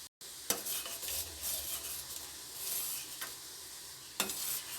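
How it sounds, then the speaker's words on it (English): A spoon stirs ginger clove tea as it boils in a pan on the stove. Continuous scraping and swirling run over a bubbling hiss, with a couple of sharper clinks against the pan's side. "You need to mix with the spoon like this for a while"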